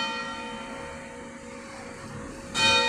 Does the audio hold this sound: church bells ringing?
yes